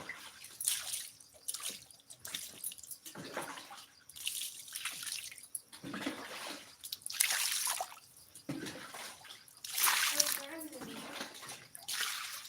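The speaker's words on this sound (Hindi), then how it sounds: "बर्तन मांजते हैं।" Water splashes and trickles in bursts as dishes are scrubbed and rinsed by hand, the intermittent splashing close and fairly faint, with voices talking in between.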